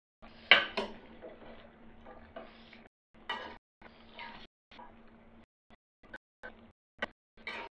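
Vegetables and potatoes being stirred in a cooking pot, scattered clanks and scrapes of a utensil against metal, interspersed with quiet speech and pauses.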